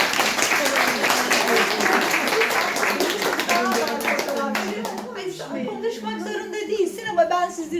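A room full of people claps enthusiastically, the applause thinning out midway as scattered voices and laughter take over.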